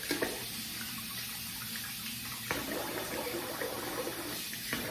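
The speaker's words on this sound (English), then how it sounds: "I'm gonna rinse the face here" Running tap water splashes steadily, close by, with a brief shift midway as hands cup and splash the flow to rinse a face; no talking.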